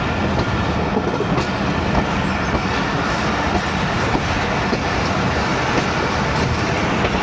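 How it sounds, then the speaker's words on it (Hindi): The Rehman Baba Express thunders through Missa Keswal station in a loud, continuous roar of rolling wheels with a faint clickety-clack, heard up close from a train waiting on the loop line. "47 अब रहमान बाबा एक्सप्रेस रन थ्रू करेगी इधर से"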